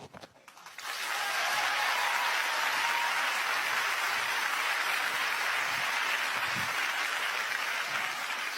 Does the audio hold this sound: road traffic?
no